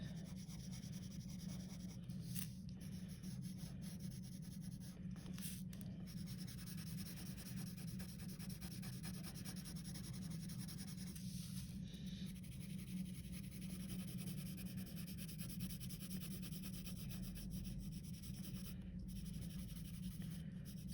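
Lead pencil shading on paper, a steady soft scratchy rubbing that runs continuously and fairly faint, with slight variations in stroke pressure throughout.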